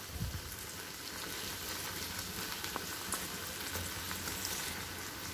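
Egg manchurian sizzles and fries steadily in a pan after soy sauce and red chilli sauce go in, a soft, even crackle with occasional faint stirring taps and no talking.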